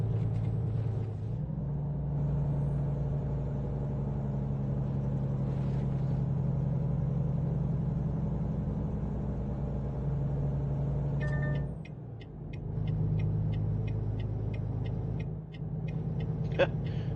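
Truck in American Truck Simulator driving a road toward the south side of Los Angeles, a steady low engine drone throughout with a brief dip and a run of rapid high clicking ticks near the end.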